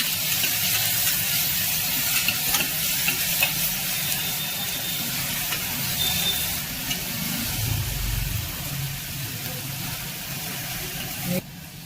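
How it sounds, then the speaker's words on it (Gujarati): Vegetables and peanuts sautéing over a medium flame for moriya khichdi, a continuous close sizzle with stirring scrapes that ends in a sharp knock. "મીડિયમ ફ્લેમ રાખી આ બધું શાકભાજી 2 થી 3 મિનિટ માટે સાતળી લેવાનું છે"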